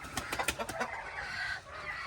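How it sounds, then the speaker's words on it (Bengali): Several free-range desi chickens cluck nearby on a farm in quick, choppy bursts, then settle into a softer, lower murmur. "তো আপনাদের আমার খামারের মুরগিগুলো কেমন লাগে অবশ্যই জানাবেন"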